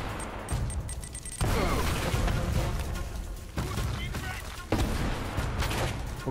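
Gunfire in the video game Uncharted: Drake's Fortune Remastered, with sniper rifle shots among bursts and booms; loud sharp blasts at intervals over a continuous noisy battle backdrop.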